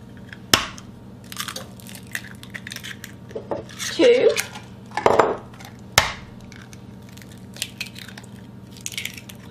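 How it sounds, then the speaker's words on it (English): Three eggs are cracked one at a time into a bowl of sugar, giving a few sharp, close cracks spaced seconds apart with soft wet squishes and a voice in between. "I'm just gonna crack my eggs 1 at a time, put them in the bowl with my sugar"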